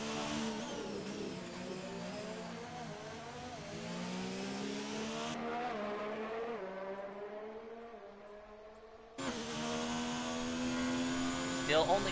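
A Ferrari Formula 1 car in a video game races an out lap at the Japanese Grand Prix, its high-pitched engine whining steadily and climbing through the gears, briefly easing off before surging loud again.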